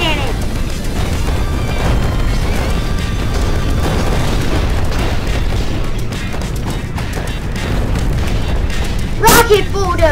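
Laser cannon blasts tear through structures in the destruction game Instruments of Destruction, a sustained booming rumble with crumbling debris and a sharp blast near the end, with someone talking over it.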